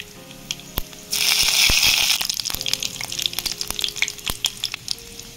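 A sudden loud burst of sizzling as five-spice and dried chillies hit hot mustard oil, settling into crackling and popping with sharp clinks of utensils against the pan.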